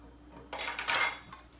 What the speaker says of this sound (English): Right now we're just mixing.